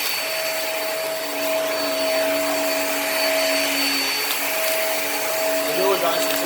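A Hoover React vacuum cleaner runs on carpet with a loud, steady whine and airy roar, its motor tone holding even throughout at close range.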